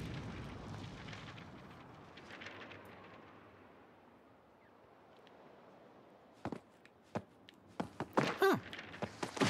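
A low rumbling blast in Paper Mario: The Origami King fades into quiet, then a cluster of sharp thuds and crackling impacts bursts out near the end.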